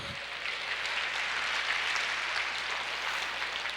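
A church congregation claps together in steady, dense applause that fills the room at an even level, with no voices over it.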